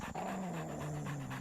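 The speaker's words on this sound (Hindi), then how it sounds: "तू क्या गुर्रा रहा है?" A bulldog growls and pants close up in a steady, low rumbling stretch, alone with no voices over it.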